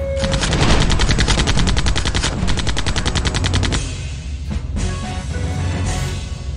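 Robot's torso blast attack in the video game Septerra Core: a rapid, loud burst of rattling, machine-gun-like energy pulses, then a few scattered heavier blasts as it fades.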